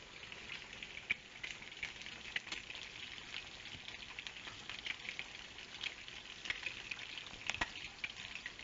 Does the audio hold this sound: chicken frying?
yes